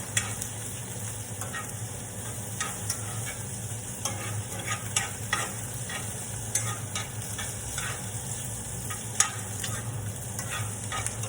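Onions, carrots and peppers sauté in a pan for immune-boosting noodles, giving a steady close sizzle with scattered stirring scrapes and clicks over a low background hum, no voices.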